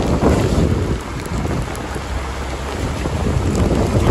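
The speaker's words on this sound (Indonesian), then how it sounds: "Hujan ini makin lebat." Heavy rain pours steadily on a mountain road between Bandung and Rancabuaya via Pangalengan, a dense, constant hiss with gusty wind buffeting close by.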